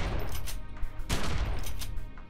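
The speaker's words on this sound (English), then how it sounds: "Shotgun." Shotgun fire in the video game The Secret World, dense booming blasts in quick succession, loud and close, with no talk.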